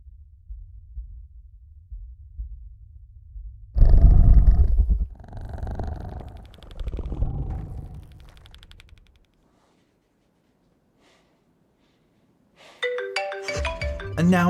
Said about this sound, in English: the sound of the mobile phone going off.